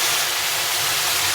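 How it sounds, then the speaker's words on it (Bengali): Hot water pours into a pan of Bengali fish curry, giving a brief, loud, steady rushing splash with no break. "জল দিয়ে দিচ্ছি।"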